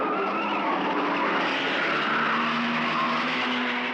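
Race cars roar in a dense, continuous engine din at the 1971 Hardie Ferodo 500 at Bathurst, loud and steady throughout with no talk over it.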